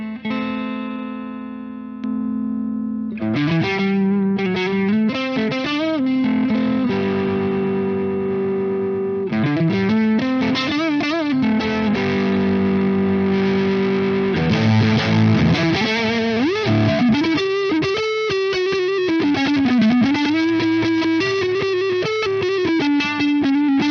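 An electric guitar plays through a TC Electronic MojoMojo overdrive pedal into a fairly clean amp sim with a hint of crunch and no reverb, giving distorted chords and single-note lines in a loose riff, close and steady.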